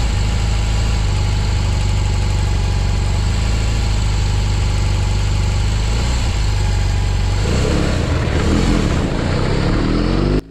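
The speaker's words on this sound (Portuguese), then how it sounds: "essa acelerada que eu dei com a R18" A BMW R18 motorcycle idles with a steady, deep throb, then its big engine is revved in roll mode, briefly rising and falling near the end.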